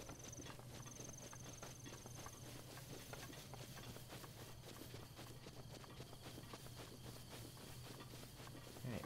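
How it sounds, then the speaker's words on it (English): Wild horses in Zelda: Breath of the Wild trot past with steady, busy clip-clop hoofbeats over a constant low game hum, moderately loud and continuous throughout. "we got wild horses here"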